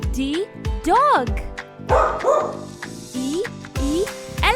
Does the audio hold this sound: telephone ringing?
no